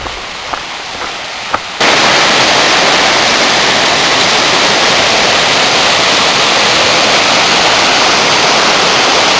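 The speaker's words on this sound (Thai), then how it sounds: "นี่ก็คือน้ำตกสีสังวานนะครับ" Si Sangwan waterfall in Pha Daeng National Park, near Chiang Mai, roaring as a dense, steady wash of falling water that cuts in suddenly after a few quiet seconds and stays loud and close.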